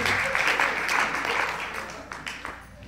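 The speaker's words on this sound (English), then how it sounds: "That's where you clap your hands" An audience at a compensation plan training session claps together, a moderate, continuous patter of hands that gradually fades and becomes more scattered.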